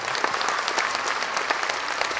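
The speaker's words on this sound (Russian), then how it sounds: "Аплодисменты юным артистам." Steady audience applause for young performers at a folk stage show, a full, even patter of many hands at moderate volume with no talk over it.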